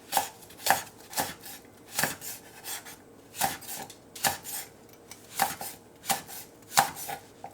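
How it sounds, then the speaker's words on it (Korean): A knife slices four red chili peppers on a cutting board in a home kitchen, making crisp, close chops in an uneven rhythm, roughly a dozen strikes with short pauses between them. "홍고추 4개를 썰어 보겠습니다."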